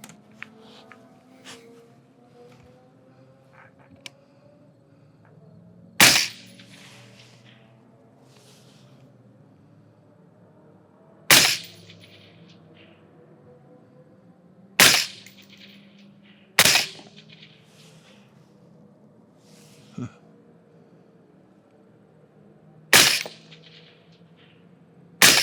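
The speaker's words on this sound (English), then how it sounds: "10 rounds suppressed" Suppressed rifle shots fired over a LabRadar chronograph: about six sharp, loud muffled cracks, each separated by several seconds of near silence.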